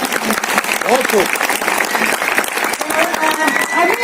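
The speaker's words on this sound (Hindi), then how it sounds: "एक बार तालियां बजा के।" Audience clapping at an Ambedkar mushaira poetry gathering in Panchkula, Haryana: steady, dense applause fills the room throughout, with voices speaking and calling out over it.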